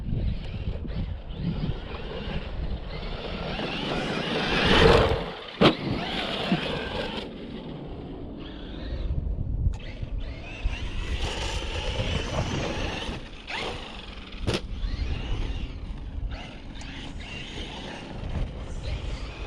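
A Traxxas Maxx V2 RC truck, running hot, bashes over bumpy ground with a continuous motor whine, mechanical rattling and wind buffeting, broken by a few sharp knocks.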